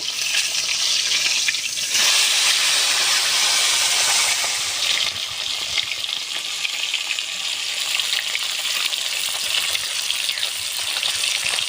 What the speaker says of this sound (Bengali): মাছগুলো সুন্দর করে ভাজা হয়ে গেছে, আমি তুলে নেব।